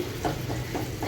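Chicken karahi, Peshawari Shinwari style, roasting in a wok over a low flame: a continuous close sizzle with a soft, regular pulse of stirring.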